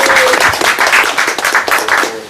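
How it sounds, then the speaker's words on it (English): An audience at a book talk applauds Harry, who helped create the book; steady, close, fairly loud clapping from a modest crowd with a rhythmic, choppy texture throughout. "So Harry, maybe you can turn around and take a bow, and we'll just applaud you"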